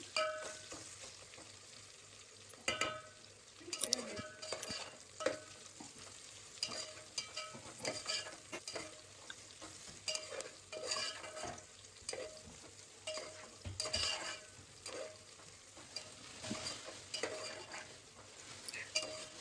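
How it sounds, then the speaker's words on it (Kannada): Onions frying in a pan for chicken biryani, a continuous crackling sizzle broken by frequent scraping and clattering stirs of a utensil against the pan, close and fairly quiet, with no talking. "ಹಾಕೊಂಡು ನೀಟಾಗಿ ಫ್ರೈ ಮಾಡಿ ಆ ಈರುಳ್ಳಿ ಎಲ್ಲ ಬಾಡಬೇಕು"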